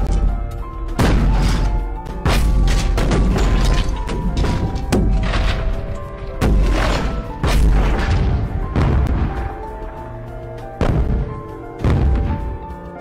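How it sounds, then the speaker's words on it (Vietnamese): Heavy artillery cannon firing in a World War I battle scene, a series of about a dozen loud, deep booms with rumbling decay, spaced roughly a second apart, with no voices. "Khẩu pháo nặng này cuối cùng cũng đã được kéo lên đỉnh. Binh sĩ bắt đầu lắp đạn. Bắn."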